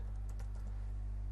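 A short burst of rapid typing on a computer keyboard, a quick cluster of close, light key clicks over a constant low electrical hum.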